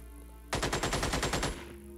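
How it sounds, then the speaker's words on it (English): Burst of rapid automatic gunfire from reaction fire in the turn-based strategy game Xenonauts, about ten evenly spaced shots over one second, loud and close, then a low game hum. "We drew some reaction fire."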